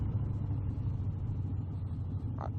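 A motorcycle pulling out hard in first gear from a side road gives a steady low engine rumble, close and fairly quiet, without any talking.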